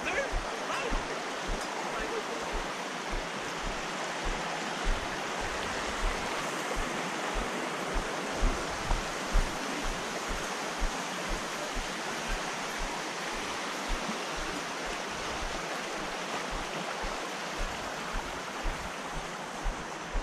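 Two rivers flowing near a waterfall at Canding Falls in San Clemente, Tarlac: a steady, full rushing wash of water, close and continuous throughout with no pauses.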